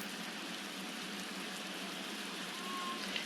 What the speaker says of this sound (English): unfortunately it started raining